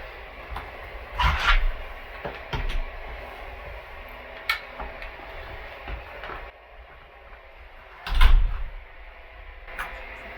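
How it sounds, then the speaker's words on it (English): Church doors swinging fully open, with a couple of loud thumping clunks and rattles near 1.5 and 8.3 seconds over a faint indoor hum and a few lighter knocks. "And so then we open the doors all the way like this."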